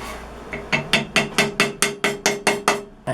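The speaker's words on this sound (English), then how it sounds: "drove it in a little bit more with the hammer" A hammer taps a glued wooden plug into a wooden intarsia piece, about eleven sharp, evenly spaced knocks in quick succession, loud and close, with no talking.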